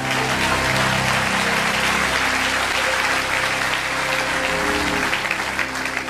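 A church congregation applauds steadily and loudly through the whole stretch, with sustained low musical tones, likely an organ or keyboard, running underneath the clapping.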